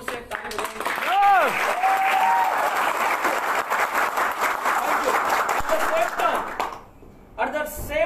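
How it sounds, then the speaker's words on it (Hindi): Loud, sustained applause from a large audience at a company growth meeting fills most of the stretch, with voices over the clapping, then it cuts off abruptly near the end and gives way to more speech. "जोर से ताली बजाओ।"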